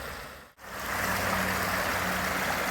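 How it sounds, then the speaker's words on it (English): A loud creek rushes steadily at a gold-prospecting spot, its broadband water roar filling the scene after a brief dip near the start, with no voices. "That creek's a little loud today."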